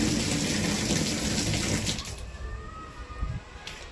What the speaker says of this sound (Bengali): আর এখানে কলে পানি চলে এসছে,